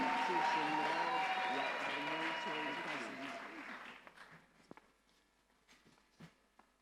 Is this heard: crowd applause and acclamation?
yes